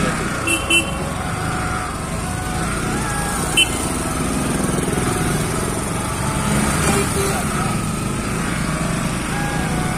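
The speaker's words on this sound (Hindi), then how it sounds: "और रेस भी तो नहीं पकड़ रही बाइक भाई" A Yamaha R15 V3 motorcycle engine labors at a steady drone, failing to pick up revs, with a few short clicks and taps over it.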